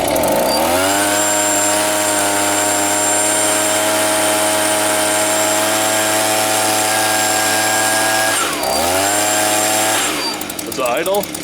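A repaired Stihl leaf blower's small two-stroke engine runs loud and steady close by, dipping briefly near the end before revving back up, with a faint squeal in the mix.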